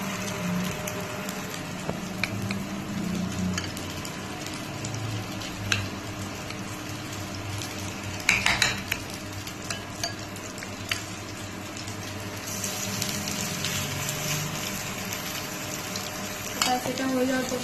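Batter for a homemade breakfast dish frying in a pan, a steady low sizzle with occasional stirring scrapes and clinks throughout, with some low background noise and no clear talk.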